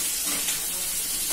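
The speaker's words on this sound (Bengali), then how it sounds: "কড়াইয়ের মধ্যে তেল দিয়ে এই সবজিগুলোকে আমি হালকা করে ভেজে নেবো" Ridge gourd and snake gourd pieces fry lightly in hot oil in a wok, giving a steady, close sizzle and hiss that holds at an even level throughout.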